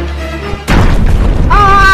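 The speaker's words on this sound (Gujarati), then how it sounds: "કોણે બોમ્બ ફોડ્યો" A single loud firecracker bomb goes off close by with a sudden heavy boom, followed by a sustained roaring burst of noise and crackle; a faint tonal hum sits underneath before the blast.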